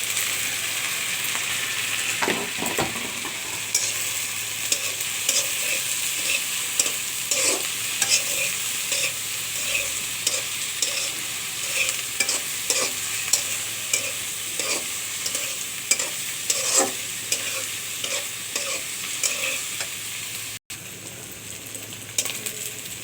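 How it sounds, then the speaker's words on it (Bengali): Cut, washed dried fish (shutki) fries in a pan, a loud continuous sizzle close by with a steady run of scraping stirs and spatula clicks throughout, no voices. "দেখুন আমি শুটিগুলো ভেজে নিয়েছি"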